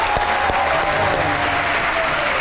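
Audience applause at a televised comedy show, a steady dense wash of clapping with a few sharper claps standing out, held loud throughout.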